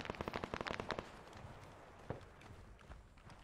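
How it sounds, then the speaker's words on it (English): Rapid run of sharp gunshots in the combat game ArmA 3, a quick volley at the start followed by a few scattered, fainter shots against steady background noise. "I can hear them shooting."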